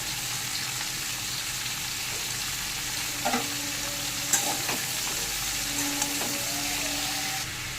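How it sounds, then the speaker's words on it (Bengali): Chopped bottle gourd sizzles steadily in a pan while it is stirred with salt, turmeric, cumin powder and chili powder, with a few light scrapes and clinks rising over the constant frying hiss. "এই মশলাগুলো দিয়ে লাউটাকে একটু নাড়াচাড়া করে"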